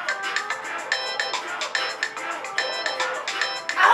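A phone rings in a room in short repeated electronic bursts, moderately loud and close, with no talk over it.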